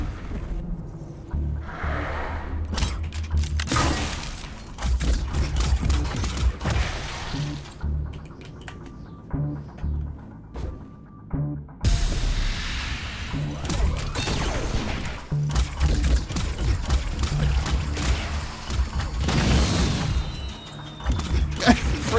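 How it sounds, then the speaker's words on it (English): Repeated fireworks-like explosions, bursts and crashes in the video game Luna Abyss, loud and dense, with a brief lull midway before the barrage resumes. "Freaking fireworks noises."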